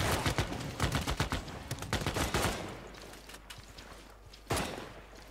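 Cannon firing in the strategy game Civilization 6: rapid, loud clusters of booming shots for about two seconds, fading into quieter crackle, then one more sharp blast near the end.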